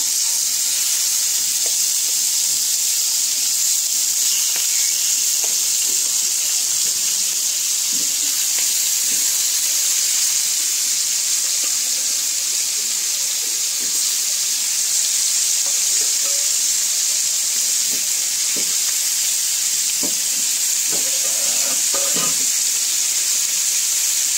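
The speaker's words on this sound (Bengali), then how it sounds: "মাছটিকে একে একে ছেড়ে দিচ্ছি, ভেজে নিচ্ছি, হালকা করে ভেজে নেবো।" Hilsa fish pieces frying in mustard oil in a pan, giving a steady, close sizzle and hiss that runs throughout, with occasional small pops and stirring clicks.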